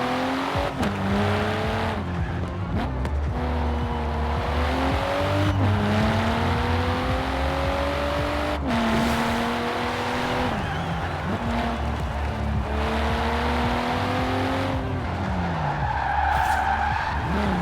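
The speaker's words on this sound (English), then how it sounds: "I don't know if it's accurate to how the Volvo S60 or V60 sounds, but it sounds good" A car engine resembling a Volvo S60 in the game GTA IV climbs through its revs again and again in rising sweeps, with tire skids mixed in and a small pop near the end.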